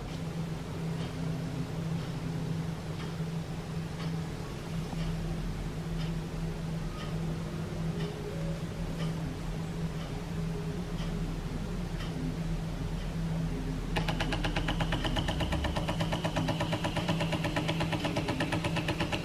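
A Vileda steam mop runs on the floor with a steady, moderate hum and faint whirr, its sound becoming brighter and busier for the last few seconds.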